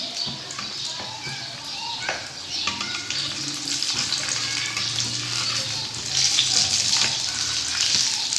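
Moong dal fritters for dahi bara fry in hot oil over a normal flame, producing a dense, continuous bubbling sizzle with small crackles and occasional utensil clinks, close and steady, while someone talks over it.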